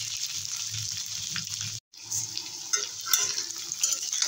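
Pointed gourd and potato pieces fry in a pan, a steady sizzle with soft stirring scrapes, broken by a brief silent gap before the frying resumes slightly louder, with no talking.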